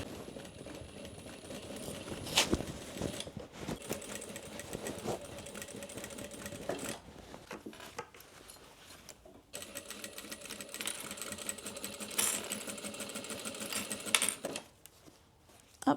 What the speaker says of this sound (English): So we're going to leave that top 3 inches and just back stitch really well.